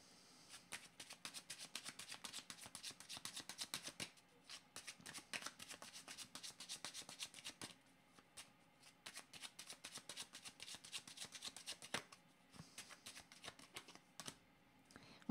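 Tarot cards shuffled by hand in long runs of quick, crisp riffling flicks, close and soft, broken by a few brief pauses, with no speech.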